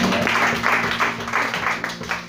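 A church congregation applauds together in steady, fairly close clapping, a dense rhythmic patter that carries on throughout with a faint voice underneath.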